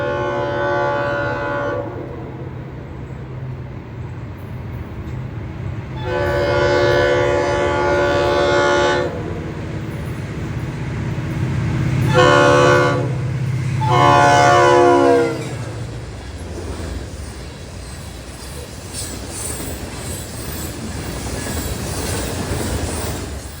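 Florida East Coast Railway freight train 905 rolls past on a siding spur, its rumble rising and falling for over twenty seconds, with several blasts of the horn sounding loudly mid-pass before the train fades.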